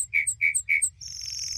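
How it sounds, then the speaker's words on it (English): A lark bunting sings outdoors, three quick rich whistled notes, each paired with a high chip, followed by a sustained high buzzy trill, clear and fairly close over a low rumble. "It's the song of the lark bunting"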